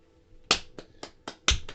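Six sharp hand claps of cheering for Bubo, fairly close and spaced irregularly, a couple louder than the rest, with no talk during them.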